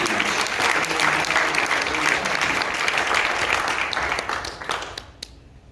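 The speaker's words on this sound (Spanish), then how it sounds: "Alguien un aplauso a la gloria de Dios." A church congregation breaks into dense, loud applause after a prayer, many hands clapping steadily together before the sound thins and fades out near the end.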